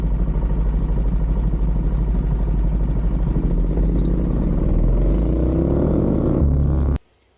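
A DuroMax 440cc big block engine on a mini bike runs steadily with a loud, close, rumbling drone that shifts pitch near the end before cutting off abruptly.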